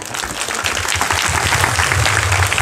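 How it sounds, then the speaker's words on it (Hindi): A church congregation claps steadily as a pastor is welcomed back, a dense, continuous patter of many hands that stays even and fairly loud for the whole short stretch. "वापस से ताली बजा सकते हैं आप"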